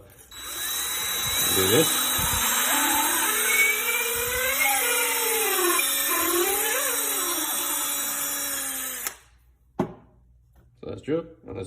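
Power drill boring out a cork-style fishing rod grip for a custom rod build, a loud steady whine with rising and falling pitch for about nine seconds, then stopping; a person speaks briefly over it and afterward.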